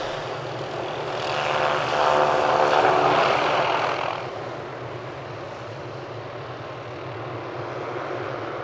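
A helicopter engine drones loudly, swelling for a few seconds then easing into a steadier, softer hum as it passes over remote Lake Alexander.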